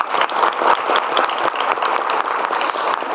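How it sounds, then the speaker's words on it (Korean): Applause from a Korean audience welcoming the provincial governor of Gyeongnam at a public event, dense continuous clapping from a crowd filling the whole short stretch, fairly loud and close. "우리 지사님 박수 한번 부탁드립니다."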